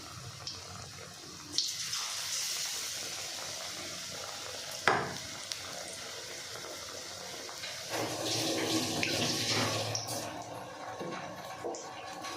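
Besan-coated bread pakora fries in hot oil with a bubbling, hissing sizzle that swells and fades, broken by a couple of sharp clinks nearby.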